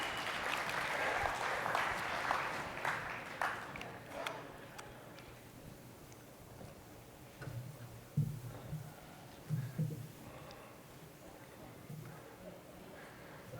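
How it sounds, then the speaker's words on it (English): Round of applause from an audience at a leadership luncheon for a building code council, loud at first and then fading into scattered claps, with talking and a few faint thumps. "Big round of applause."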